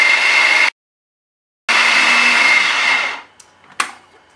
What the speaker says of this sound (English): what we want is for it to form its own ball in the mixer